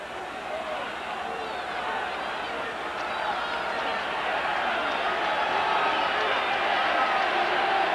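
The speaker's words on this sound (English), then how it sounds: "This crowd hasn't let up all night. They started cheering during the pregame workouts." A football stadium crowd at a Toronto at Hamilton game keeps up a dense, roaring wall of cheering and noise that slowly swells louder, with commentary voices underneath.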